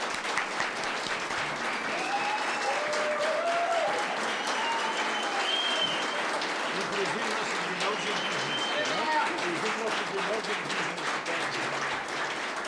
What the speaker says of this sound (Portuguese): Palmas para essas pessoas.